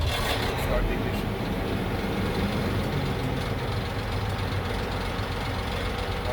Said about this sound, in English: Start the ignition.